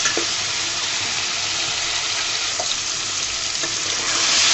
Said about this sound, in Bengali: আলুটাকে আমি সুন্দর মতো টমেটো আর পেঁয়াজ ভাজার মধ্যে ভেজে নিচ্ছি